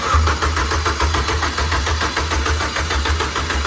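A rebuilt race engine being cranked by its starter motor with the coils unplugged, a steady churning mechanical whir running continuously and loud from start to finish, with no firing or catch.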